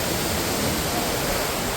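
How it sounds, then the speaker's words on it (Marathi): Two waterfalls meet in Andharban forest, giving a steady, loud, broadband roar of rushing water that stays unbroken throughout. "असा सुंदर असा दोन धबधब्यांचं मिलन"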